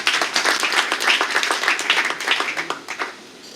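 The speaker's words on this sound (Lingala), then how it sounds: "Est-ce qu'on peut nous applaudir?" A wedding audience claps together in a dense, steady burst of applause that fades slightly toward the end; no voices rise above it.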